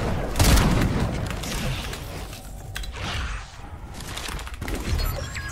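Sniper rifle shots in a Fortnite custom match ring out as several booming cracks, one loud near the start and more scattered later, among rattling mechanical game sounds.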